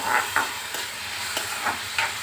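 Chopped tomato, green chilli and onion fry in a pan with a steady close sizzle, broken by several soft stirring scrapes spaced about half a second apart; no voices.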